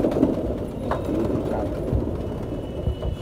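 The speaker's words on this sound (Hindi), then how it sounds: "ये कबूतरी देखो भाई" Low, soft female pigeon cooing murmurs beneath a steady rustling background, with a few faint thumps scattered throughout.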